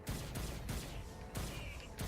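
A lava cannon fires in Saints Row: Gat Outta Hell, giving several loud, crackling blasts in quick succession, dense with rumbling low-end impact.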